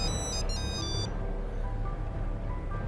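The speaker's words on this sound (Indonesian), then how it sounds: "Pas gue ngobrol sama Ray, tiba-tiba telepon itu bunyi lagi." A phone rings with an electronic trill that stops after about a second, leaving a steady background hum.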